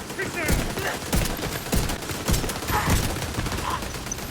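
Enemy gunfire in The Division 2 comes as dense, rapid bursts of shots in a sustained loud fusillade, with sharp repeated cracks throughout.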